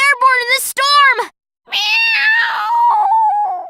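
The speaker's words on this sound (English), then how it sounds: "Enough with your meowing." A cat character meowing in the La Pucelle Tactics video game, with a series of rising and falling meows, a brief pause, then a longer drawn-out meow, all loud and close.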